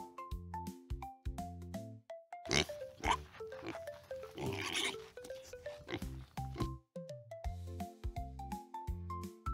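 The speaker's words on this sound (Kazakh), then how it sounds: "шошқа" A pig grunts and oinks in a children's cartoon about domestic animals, with a few close, rough snorts over about three seconds that sit on top of a cheerful plinking tune.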